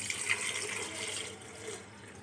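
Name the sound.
water poured into a metal kalash pot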